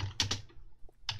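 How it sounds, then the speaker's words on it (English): Typing on a computer keyboard, three or four quiet, close keystrokes in quick uneven succession with short gaps, alone without talk. "She's typing. I can hear."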